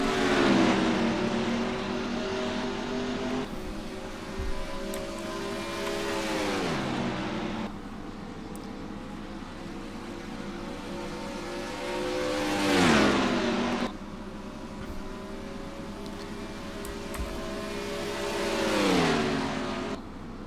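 Engines of stock cars in a racing video game roaring at the green flag of the Pennzoil South Point 400 at Las Vegas, repeated rising revs and gear shifts looping loudly and close with no talk.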